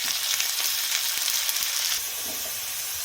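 Onion, capsicum and mixed vegetables sizzle in a hot pan, a bright continuous frying hiss with light stirring clicks that eases slightly toward the end.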